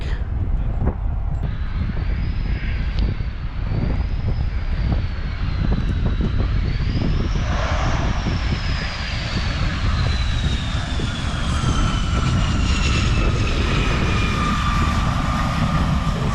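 Aircraft landing at the Stuart Air Show: a loud, steady engine roar with a rising then slowly falling whine as it passes and settles on the runway.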